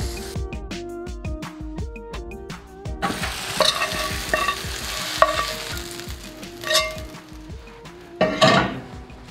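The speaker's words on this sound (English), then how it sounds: "Beautiful sauteed mushrooms." Mixed mushrooms sauté in a pan, starting with a run of sharp utensil clinks and taps against the cookware, then giving way to loud, close sizzling with bursts of stirring and scraping.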